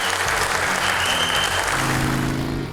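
A crowd at a Harley-Davidson store event in Brookvale, Northern Beaches, applauds loudly and steadily throughout, with a sustained wash of clapping and cheering.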